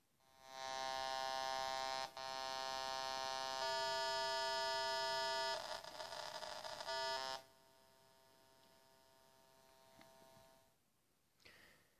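Korg DSN-12 synthesizer holds a steady, buzzy sustained tone whose timbre shifts a few times as the basic waveform is altered, then drops to a faint hum; loud and close, with no voices.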